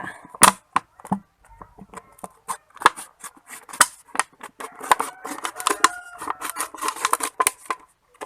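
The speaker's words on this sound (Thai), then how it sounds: "แล้วก็นำขวดน้ำมาตัดค่ะ" Scissors snip through a plastic water bottle being cut down to make a cutting pot for propagating plants, a run of sharp close crisp clicks and crunches, irregular and busier toward the end, with no talking.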